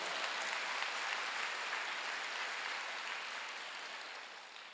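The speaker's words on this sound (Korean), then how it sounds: "박수 주세요" Steady applause from a church congregation at a Wednesday worship service, a dense continuous wash of many hands that holds evenly and tapers slightly toward the end, with no voices over it.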